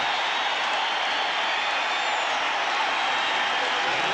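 A Rockies home crowd at a 1995 NLDS baseball playoff game roars after the tying run is driven in, a loud dense sustained cheer and applause from a large stadium audience, with no break.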